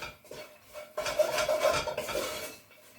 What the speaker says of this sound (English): that's my spices cooking in the pot